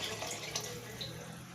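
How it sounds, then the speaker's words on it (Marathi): Water pours into a pot of home-style chicken curry cooking in a handi, producing a quiet, continuous splashing gush with no other sounds. "तर आपल्याला लागतं तेवढं पाणी टाकायचं याच्यामध्ये."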